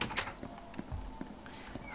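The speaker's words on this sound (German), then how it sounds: "Mach bloß die Tür hinter mir zu." A wooden door shutting in the Minecraft video game, heard as a few faint, short clunks and clicks spread across a couple of seconds against a quiet background.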